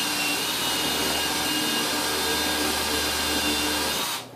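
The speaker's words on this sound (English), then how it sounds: "I have a countersink bit, and I'm going to pre-drill the hole" A power drill with a countersink bit pre-drills a hole in wood for a plug during a bay window installation, whirring loudly and steadily at one constant speed before stopping abruptly.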